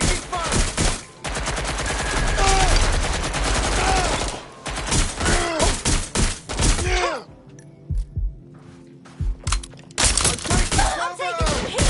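Heavy gunfire in the video game Watch Dogs Legion: rapid machine-gun bursts and single shots rattle loud and close, broken by short pauses, a near-silent gap around eight seconds, then a few more sharp shots.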